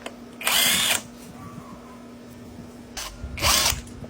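Two short bursts of a power drill spinning out bolts on the rear fender of a Honda Beat scooter being restored, each about half a second, close and loud over a faint steady hum.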